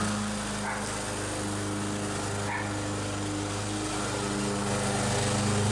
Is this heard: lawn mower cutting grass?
yes